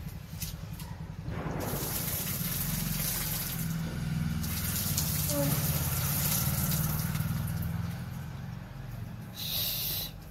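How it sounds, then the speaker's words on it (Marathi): Dirty water left from soaking curry leaves is poured onto a plant, making a steady, close splashing wash over a low, constant hum that runs almost the whole way through. "हे सगळं आता झाडाला घालून ठेवायचं पाणी."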